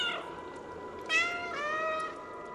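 Cats meowing in the video game Stray: a brief meow at the start, then two clear, drawn-out meows close together, over a quiet background.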